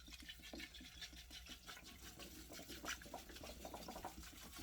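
Water pours from a bottle onto elderberries, a continuous faint splashing and gurgling that runs steadily for several seconds with no talking.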